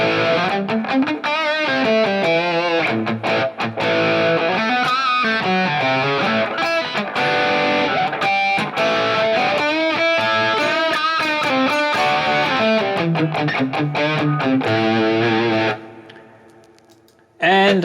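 A heavily distorted, high-gain electric guitar through a NUX MG-30 modeler plays chunky riffs and sustained chords, loud and continuous, then drops away near the end.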